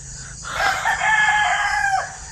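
A rooster crows loudly and close by near a chicken coop, one long drawn-out call lasting nearly two seconds over a low steady background hum.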